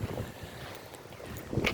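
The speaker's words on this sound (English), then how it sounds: "this place is great because it's really windy and there's salt in the air" Wind gusting steadily at a breezy, salty seaside beach on Hawaii's Big Island, a continuous rough rush with buffeting against the microphone, fairly close and moderate in level, no one speaking.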